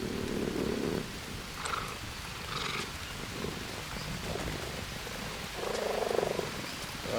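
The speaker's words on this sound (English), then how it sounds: "I hear a cat." A big cat in the Green Hell jungle survival game gives a deep, rumbling purr-growl in a few loud bursts, with quieter rasping stretches between them over steady ambient noise.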